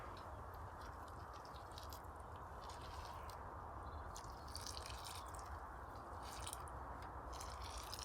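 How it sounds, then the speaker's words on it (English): Water trickles and drips softly into the soil of potted marigolds, with faint wet squishing over a low background hum, quiet and close. "Give it a water."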